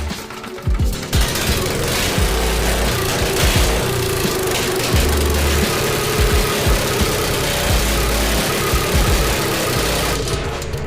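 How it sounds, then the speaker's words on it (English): A Honda-engined drift kart screams steadily against its rev limiter, a loud, buzzy, stuttering engine note held for about ten seconds with rapid limiter cuts and no talking over it. "He's so good at rev limiting this Honda."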